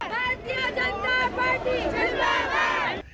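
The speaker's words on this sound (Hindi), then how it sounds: "पार्टी दफ्तर के बाहर शाम होते होते कार्यकर्ताओं की भीड़ बढ़ गई" Crowd of party workers celebrating an election win outside a party office in the evening, a loud, close mass of excited shouting and cheering voices with overlapping calls, continuous throughout.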